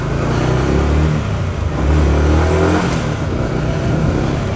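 A Yamaha MT-125 motorcycle engine runs steadily and close by, with a low throbbing drone that rises a little as the bike pulls away through a Swiss parking area.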